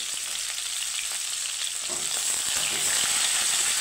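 Cauliflower frying in a pan with salt and turmeric, a steady close hiss of sizzling oil with light scraping and knocking as it is stirred, no voices.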